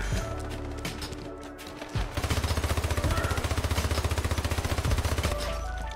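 Sustained rapid machine-gun fire in a shooter video game, a steady fast rattle of evenly spaced shots that starts after about two seconds and runs loud and unbroken almost to the end.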